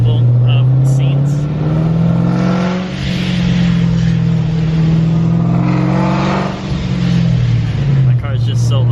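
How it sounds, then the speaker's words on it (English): A loud car engine fitted with a Procharger supercharger revs and holds a deep, sustained roar close by, with brief dips in pitch. "My car is just so loud, and with the Procharger it just raised the decibels like crazy"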